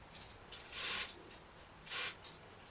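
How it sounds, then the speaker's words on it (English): Two short, sharp bursts of aerosol spray lubricant hiss onto the control knob of a Ferguson tabletop radiogram, close and loud, with a couple of fainter puffs between them and quiet in the gaps. "see if we can get a bit of spray down this knob"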